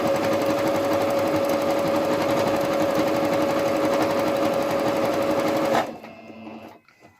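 A sewing machine runs a steady, continuous second topstitch 0.5 cm from the edge on fabric for an AFNOR face mask, loud and close, then stops abruptly near the end.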